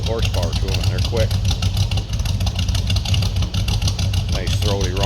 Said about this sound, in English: Nice throaty rumble coming out of that V8.